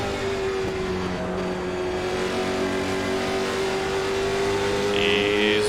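A late model stock car engine in the iRacing video game at South Boston drones steadily under throttle, with a sustained, close, loud tone that rises slightly near the end.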